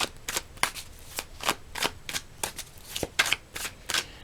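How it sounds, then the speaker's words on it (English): A deck of cards is shuffled in quick, repeated riffling bursts, each a crisp flutter of snapping cards, close and clear. "if I'm shuffling and multiple cards fly out"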